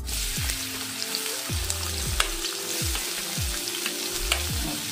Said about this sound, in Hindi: अब इसे हम थोड़ा सा रोस्ट कर देंगे, इसमें फ्राई आ रही है